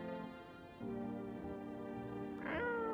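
A cat in a video game gives a single short meow near the end, rising clearly above a quiet, sustained musical backdrop.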